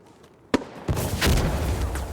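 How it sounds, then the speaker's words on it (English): A grenade explodes in the Insurgency Sandstorm video game: a sharp crack, then a short gap before a heavier rumbling blast that rolls on and fades slowly, moderately loud, with no voices over it. "Okay, grenade out!"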